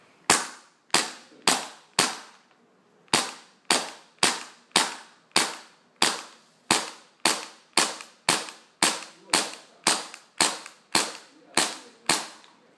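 A Tokyo Marui PX4 gas airsoft pistol fires BBs in a steady run of about twenty sharp, crisp pops, with a brief pause after the first few shots, then continues at an even pace until empty.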